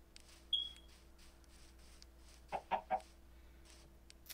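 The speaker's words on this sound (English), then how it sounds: "Okay, chicken. I got a chicken." A lone chicken in the modded Minecraft game gives a quick run of three soft clucks near the end, preceded by a brief chirp, all faint over a low steady background hum.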